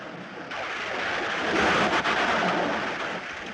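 A steady, broadband roar of a thunderstorm on a stormy night, heavy and continuous like pouring rain with distant rumble, swelling louder in the middle and easing slightly toward the end, with no voices.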